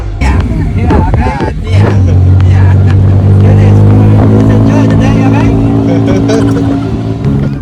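A tuk-tuk rattles through Bangkok streets, its small engine droning loudly and close with a rising and falling pitch, mixed with road noise and passing traffic, while people talk intermittently over it.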